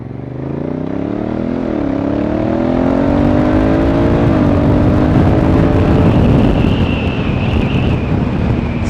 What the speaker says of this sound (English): Seamless gear change all the way up to 60 mile an hour.